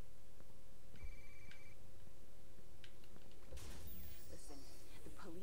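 A phone rings in a Watch Dogs 2 game scene, a short trilling bell burst over low ambient hum, followed by clicks and rustling effects.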